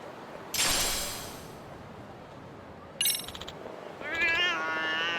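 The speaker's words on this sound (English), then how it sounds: "Oh hey, a cat." A cat in Lost Judgment gives a few short meows, separated by pauses, with a longer, rising final call, each one close and clear above a low, quiet game background, and a voice talks in between.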